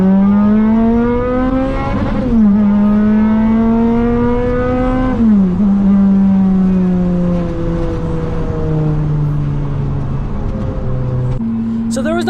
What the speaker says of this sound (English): That was our launch on nitrous.